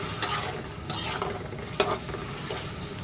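Raw fish such as snakehead is stirred and seared in a hot pan, with sizzling broken by several scraping stirs and clinks of a utensil, no talk.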